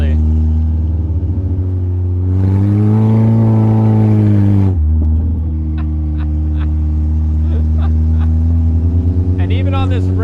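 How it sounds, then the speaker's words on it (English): An Austin-Healey sports car engine drones steadily on a rainy day with almost no exhaust, then revs up and climbs in pitch before dropping sharply at a gear shift and settling back into a low, even hum. "this car is really fun to drive"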